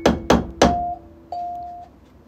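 A hammer striking nails while putting up a hook or clothesline in a home: three sharp, loud knocks in quick succession, followed by a thin lingering ring.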